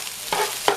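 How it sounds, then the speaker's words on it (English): Spatula scraping through vegetable fried rice in a pan, two quick strokes against a quiet, steady sizzle. "Give it a good stir."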